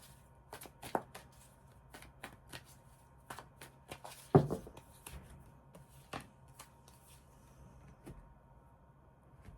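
Tarot cards being shuffled in quick, crisp bursts of riffling and tapping, close up and quiet, with short pauses between shuffles.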